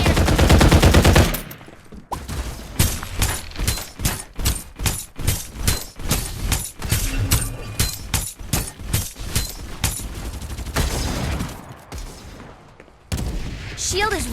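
Gunfire in the battle royale game Farlight 84: a loud burst, then a long run of evenly spaced rapid shots with sharp reports, followed by further firing near the end, with speech faintly mixed in.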